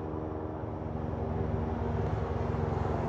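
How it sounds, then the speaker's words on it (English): A helicopter passes nearby, heard as a steady low droning rumble with a faint rhythmic pulse, fairly constant and moderately loud throughout. "That helicopter coming back."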